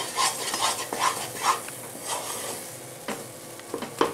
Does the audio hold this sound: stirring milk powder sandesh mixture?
yes